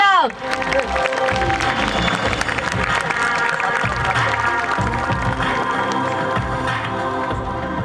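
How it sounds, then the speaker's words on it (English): Applause and cheering from a crowd at a school fest and carnival for a karate club performance, with music and voices mixed in throughout. "Let's clap for the Karate Club."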